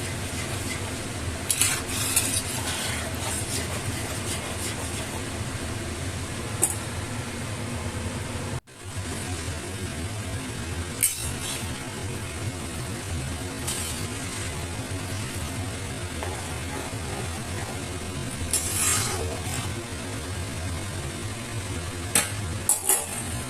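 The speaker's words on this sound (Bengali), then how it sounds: "জলটা দিয়ে আমি খুব ভালো করে আবার নাড়াচাড়া করে দেবো" Soybean and taro curry being stirred in a pot after hot water is added for gravy: steady scraping and clinking of a utensil against the pot over a continuous simmering hiss.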